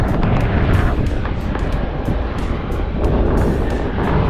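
A China Airlines passenger jet passes overhead with a dense, steady roar that stays loud and broad throughout, with no voices over it.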